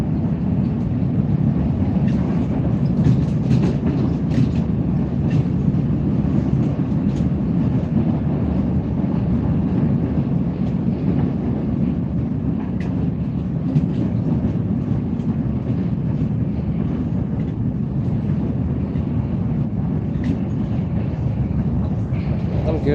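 Russian passenger train riding on rails, a continuous low rumble with faint rhythmic clatter from inside a carriage, steady and moderately loud with someone talking over it.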